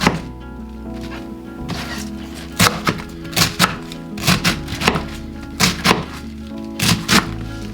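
Knife chopping cabbage on a cutting board for cabbage soup, a run of sharp wooden thunks in uneven clusters, close and loud, with no talk.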